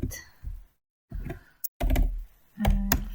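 A computer keyboard being typed on in short bursts while entering a drawing name in ArchiCAD, clustered clicks and taps separated by brief silences, close and fairly soft.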